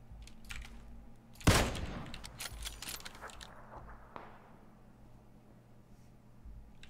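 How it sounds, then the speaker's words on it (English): Gunfire in the video game PUBG: one loud, sharp shot stands out near the start, followed by scattered fainter cracks and clicks that fade into a quieter background. "Still someone shooting us from across the way."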